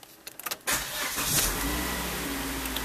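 A 2004 Volvo XC90 with a stuck gear shifter, started in neutral: a few quick starter clicks and cranking, then the engine catches with a surge and settles into a steady close idle.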